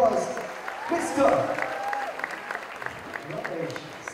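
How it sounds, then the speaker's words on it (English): Applause from an audience fills the room, a steady patter of clapping that rises and then gradually thins out. "ladies and gentlemen, huge round of applause"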